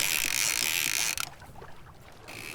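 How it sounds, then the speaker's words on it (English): Rapid mechanical ratcheting clicks from a fishing reel clicker drone steadily on a sailboat, then cut out abruptly and return faintly near the end over boat and water noise. "I can't turn the clicker off, so you have to bear with the noise."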